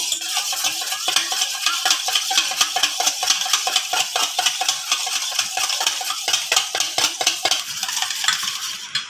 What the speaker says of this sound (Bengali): এবারই সাদা অংশটা আমি ফেটাতে থাকবো